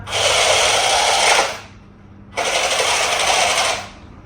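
The electric motor of a hobby-grade RC car whirs loudly in two bursts under throttle, each lasting about a second and a half with a short quiet gap between them, then winding down.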